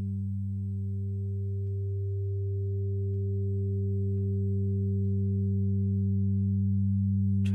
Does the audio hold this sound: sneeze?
no